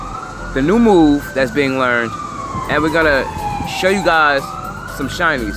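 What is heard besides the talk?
emergency vehicle sirens in the background at a park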